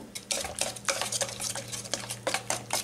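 Steady sizzling of fish frying in a pan with peppers, with a utensil repeatedly scraping and clanking against the pan's metal.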